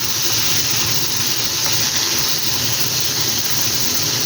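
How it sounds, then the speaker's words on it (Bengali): Potatoes fry in hot oil in a pan for a Bengali mixed vegetable dish, giving a steady, close, even sizzling hiss that carries on without a break and with no talk. "আলুটা একটু সুন্দর করে ভেজে নেবো"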